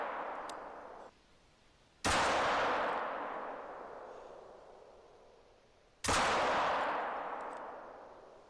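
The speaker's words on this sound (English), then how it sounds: "First up here, we have the 357 Magnum. This is the first revolver that you can obtain." Two heavy .357 Magnum revolver shots boom out in the hunting game theHunter: Call of the Wild, a few seconds apart, each a sharp loud blast with a long rolling echo fading away.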